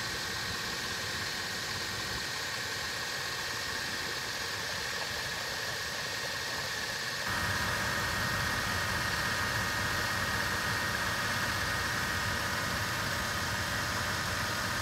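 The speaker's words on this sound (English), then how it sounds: "I'm going to stop talking here for a few seconds so you can listen to the engine." A 2008 Land Rover Range Rover Sport HSE engine idles steadily with the hood up, a continuous low hum and whir that grows a little louder and brighter about halfway through, with no talking.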